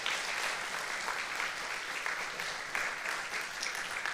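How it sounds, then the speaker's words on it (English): A church audience claps steadily throughout, a dense, sustained round of applause with no voices standing out. "Can we give them a round of applause real quick?"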